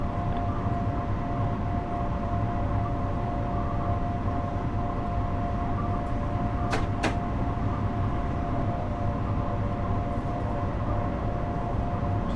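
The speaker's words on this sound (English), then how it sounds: "Just heard another train going by," A train passes in a Train Sim World video game on the Harlem Line, a steady, continuous roar with a faint tonal hum, a couple of sharp clicks partway through.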